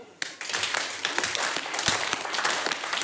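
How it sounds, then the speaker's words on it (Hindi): A group of people clapping their hands loudly together at a motivational talk during a Manali tour, starting abruptly after a brief pause and continuing as dense, sharp claps with distinct louder strikes. "और एक बार जोरदार वाली तालियां"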